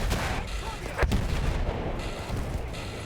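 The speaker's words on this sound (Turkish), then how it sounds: "Bak yine bomba geldi." Battlefield 1 combat with loud rumbling artillery blasts and gunfire throughout, a sharp explosion striking near the one-second mark over the constant din of war.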